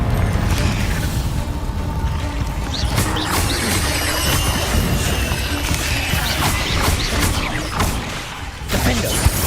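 Confringo blasting spell in the video game Hogwarts Legacy, a loud dense clash of crashing blasts, whooshes and impacts over continuous combat noise and music, with repeated sharp bursts throughout.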